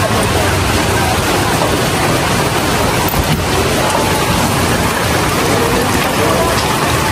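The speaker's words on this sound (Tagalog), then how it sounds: "Grabe po kalakas ng ulan." Heavy rain pours down at an outdoor market, a loud, unbroken roar of drops hammering surfaces that fills the whole stretch without pause.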